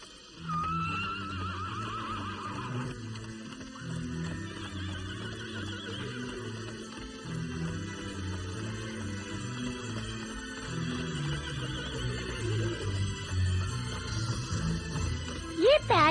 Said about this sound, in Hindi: यहाँ एक और घोड़ा है